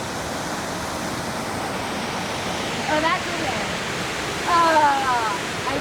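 A waterfall in the Columbia River Gorge, Oregon, roars steadily as broadband rushing water throughout, with people talking and exclaiming nearby over the constant noise.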